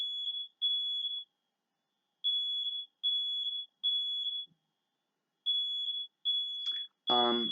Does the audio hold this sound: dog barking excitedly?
no